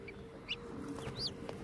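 Faint chirps and peeps from young chicks, a few short calls scattered over a low background hum.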